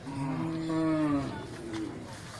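A loud, drawn-out moo from a Simmental cow close by at a livestock market, rising and then falling, with faint crowd noise and murmuring in the background.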